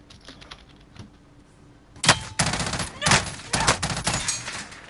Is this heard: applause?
no